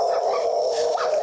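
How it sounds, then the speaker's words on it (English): A dog in a backyard makes an agitated, continuous whining bark, loud and close, during a tense encounter with a police sergeant. "Watch that dog here."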